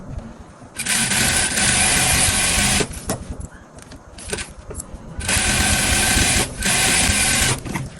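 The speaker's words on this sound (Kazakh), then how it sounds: "Алдындағы вытычкасын тігіп аламыз қазір" A sewing machine stitches a bust dart on a velvet evening dress, running in two long loud buzzing bursts with a shorter stuttering run between them and brief pauses, close and alone.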